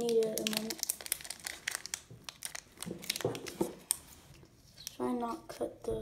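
A Pokémon card pack's foil wrapper is torn open by hand without scissors, giving sharp, close crinkling and ripping bursts in quick irregular flurries, with a voice talking at the start and end.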